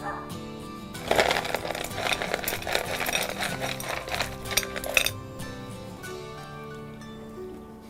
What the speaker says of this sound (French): Je vais ensuite ajouter des cailloux pour le drainage.